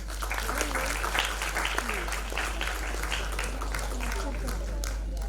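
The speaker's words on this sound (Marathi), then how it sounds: "टाळ्यांचा गजर प्लीज" An audience claps at an award ceremony in Pune, a steady wash of many hands from start to finish, with someone speaking over it throughout.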